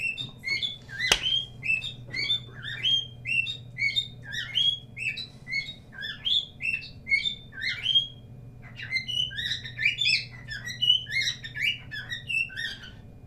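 A pet bird chirps in a busy series of short, bright tweets and trills, close and fairly loud over a low steady background hum, with one sharp click near the start.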